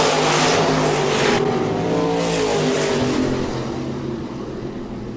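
Stock cars racing at Park Jefferson Speedway, a loud steady roar of several engines at once that eases slightly as the field stretches out, with no talk over it.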